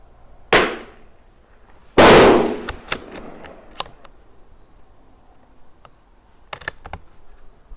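A Tikka T1x .22 LR rimfire rifle fires two sharp, close cracks a little over a second apart, followed by fainter, distant snaps from other shots across an otherwise quiet range.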